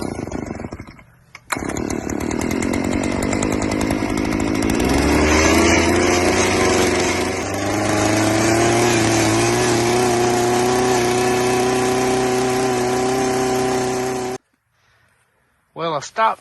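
Gas-powered post hole auger digging fence post holes in a pasture, its engine droning loudly and rising in pitch as it works, with someone talking over it before the engine cuts out.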